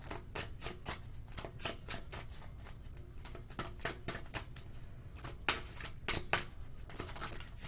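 Tarot cards are handled, shuffled and drawn with quick, close papery flicks and snaps. The rustles come in irregular clusters at low volume, with no voice over them.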